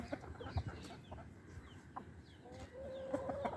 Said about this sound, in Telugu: ఇదిగోనండి నా స్టార్టింగ్ నుంచి ఉన్న పెట్ట ఇది